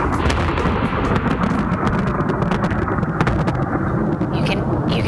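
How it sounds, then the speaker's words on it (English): Thunder rumbles continuously through a storm over Fort Worth as a shelf cloud and wall of rain roll in, a loud, dense low roar mixed with wind and rain noise. "You can also hear the thunder as this big wall of rain and wall of that cloud come in out ahead of it"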